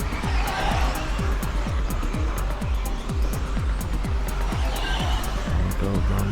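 Electric Associated RC10B74.2 4wd RC buggies race around an outdoor track at Southport, producing a dense, loud continuous whine. Repeated rising and falling motor pitches sweep past as cars fly by in quick succession.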